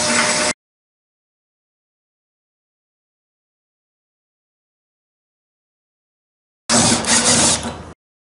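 A drill punching a 3/16 inch hole through wood for a flip-up table saw extension: a brief loud burst at the start, then silence, then a second loud burst of about a second near the end.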